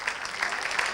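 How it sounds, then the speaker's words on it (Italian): Home crowd at a Serie D football match clapping as the Ribera and Palermitana teams walk onto the pitch, a steady wash of distant stadium applause with no voices. "Fanno il loro ingresso in campo le formazioni di Ribera e Palermitana tra gli applausi del pubblico di casa."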